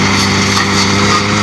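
A gasoline grass cutter engine runs close by, giving a loud, steady buzzing drone that stays even throughout.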